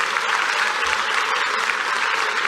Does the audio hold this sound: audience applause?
yes